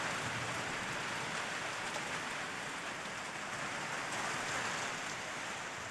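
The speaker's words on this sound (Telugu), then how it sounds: "భైన్సాలో ఉరుములు మెరుపులతో కూడిన వర్షం కురిసింది." Steady heavy rain falling during a thunderstorm in Bhainsa, a dense, even hiss of drops on surfaces that holds constant throughout with no clear thunder rumble standing out and no voices.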